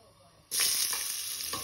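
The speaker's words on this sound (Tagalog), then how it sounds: "magigisa na tayo ng bawang, sibuyas, luya" Garlic, onion and ginger dropped into hot oil for a chicken halang-halang dish, bursting into a loud, sudden sizzle after a short quiet moment and then holding a steady frying hiss.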